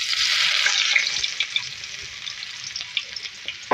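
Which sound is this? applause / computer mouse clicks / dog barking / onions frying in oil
onions frying in oil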